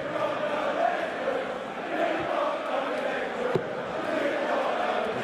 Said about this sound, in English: Crowd are warming up.